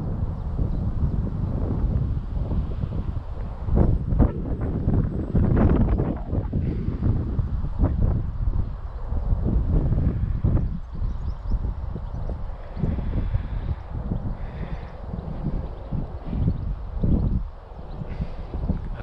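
Gusty wind buffets the microphone outdoors at a model aircraft flying field, a loud, rough rumbling roar that rises and falls throughout, with no voices.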